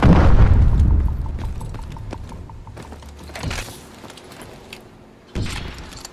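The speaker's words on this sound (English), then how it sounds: "Oh, bombing run, that's gonna be useful" Bombing run explosions in the video game Call of Duty: Advanced Warfare, with a loud booming blast at the start that fades, then two more dull explosive thumps later, over game background sound.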